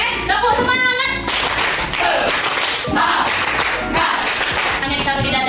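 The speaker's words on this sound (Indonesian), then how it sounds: "Oke, tepuk semangat." A group performs a rhythmic spirit clap, with patterned claps and slaps on the chest under chanted voices, loud and close.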